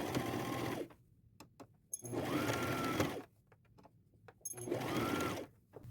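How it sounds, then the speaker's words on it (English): A sewing machine runs three times in roughly one-second bursts, straight-stitching the armhole seams of a sweater, with quiet handling clicks in the pauses between runs. "I'm going to do a straight stitch 1/4 inch seam allowance all the way around"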